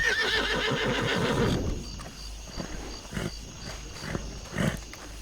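A horse neighs loudly and close by in a long, wavering whinny that fades out, followed by scattered softer snorts and shuffling sounds.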